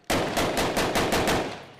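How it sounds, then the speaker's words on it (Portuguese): Rifles fire in a rapid, steady series of loud, close bursts during a police operation against armed criminals in Vila Kennedy, west Rio de Janeiro, and the shots run together into a continuous rattle. "Já são mais de 10 minutos de intensa troca de tiros."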